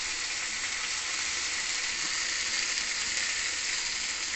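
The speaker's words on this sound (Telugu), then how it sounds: "ఇప్పుడు ఉల్లిపాయ ముక్కలు వేసేసుకుందాం." Onion pieces fry in a pan for onion curry with a continuous, even sizzle, close and steady throughout and no other sounds.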